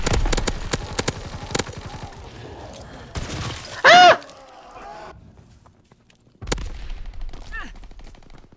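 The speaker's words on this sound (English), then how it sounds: "Too many explosions." Loud bursts of gunfire and explosions in Call of Duty Black Ops 4 zombies mode, rapid cracks early on then a sharp blast, with a brief pause before more action resumes.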